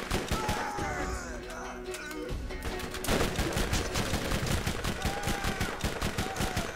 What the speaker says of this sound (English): very badly thrown grenade.